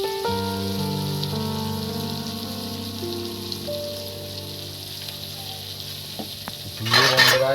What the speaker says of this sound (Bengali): দিয়ে বন্ধুরা এটাকে ভালো করে নেড়ে চেড়ে নেবো।